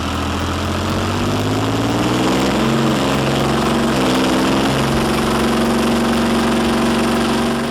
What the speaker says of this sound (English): The Leopard 2's V12 engine bursts to life.